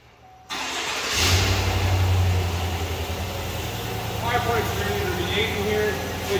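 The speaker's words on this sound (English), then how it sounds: "I'm gonna fire this one up for you" A 2020 GMC Sierra 1500 pickup engine cranks and catches after a brief quiet moment, flaring up loudly before settling into a steady, close idle.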